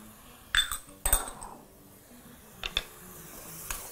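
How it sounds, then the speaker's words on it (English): Chunks of mutton meat drop into a stew pot with paprika, giving a few scattered clinks and soft splats against the pot, faint and close with quiet gaps between them. "we're going to proceed to add our meat chunks and add in the rest of our paprika powder."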